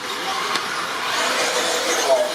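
RC buggy cars racing in a Coupe de France BLS 2016 final: a high, buzzing whine of small motors fills the track, swelling and fading as a pack passes, with a commentator speaking over it.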